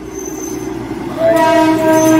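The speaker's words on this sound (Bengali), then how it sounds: "টয় ট্রেনটা যাচ্ছে বলে আমাদের গাড়িটা সরাতে হলো" The Darjeeling toy train rumbles close by on its line, its engine noise rising as a loud, sustained horn blast starts partway through and carries on to the end; no speech is heard.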